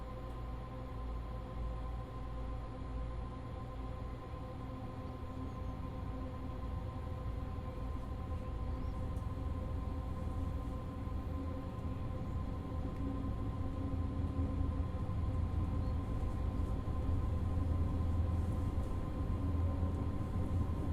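A German ICE T high-speed train on the Frankfurt–Fulda route in Train Sim World 5 powers up and accelerates, a steady, loud, continuous rumble with a constant motor hum that slowly swells over about twenty seconds, with no speech.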